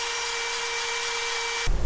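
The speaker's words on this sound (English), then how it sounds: "All I did was cut the aluminum to length." A power tool cuts a scrap piece of aluminum to about five inches with a loud, steady, whining grind, which cuts off abruptly and is followed by a brief clunk.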